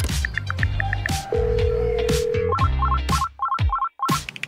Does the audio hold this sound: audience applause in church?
no